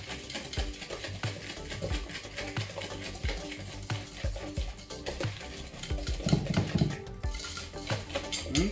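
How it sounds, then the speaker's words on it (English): Flour and salt being mixed into whipped eggs and sugar, with a utensil knocking and scraping rhythmically against a bowl in quick repeated strokes, close and moderately quiet. "Now I'm gonna mix in my flour and salt mixture. And I'm gonna mix that all in."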